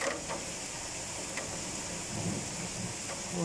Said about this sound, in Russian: Вон, гремит, видите?